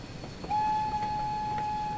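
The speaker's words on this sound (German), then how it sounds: "Ah, herrlich. Ich liebe die Pfeife." A steam locomotive whistle in Train Sim World 3 on the Peak Forest line from Ambergate to Chinley blows a single loud, steady tone that starts sharply and holds for about a second and a half over low rumbling ambience.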